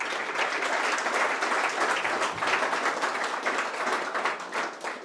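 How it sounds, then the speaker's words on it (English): A room full of attendees at a wholesale real estate meetup in Utah claps for a guest speaker, steady dense applause holding at an even level throughout. "so another round of applause for Jason."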